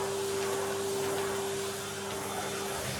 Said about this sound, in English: I need to vacuum.